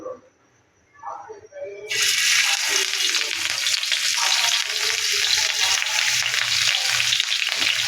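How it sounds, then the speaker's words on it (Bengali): Catla fish pieces dropped into hot oil on a tawa, a quiet start with small handling noises, then a sudden loud, steady hiss of frying that continues close up to the end. "তাওয়াতে তেল বসিয়ে গরম করে নিয়েছি এবার মাছগুলো একে একে দিয়ে দেবো"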